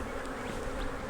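Dense, continuous buzzing of many honeybees swarming close around an agitated beehive during an inspection, loud and unbroken.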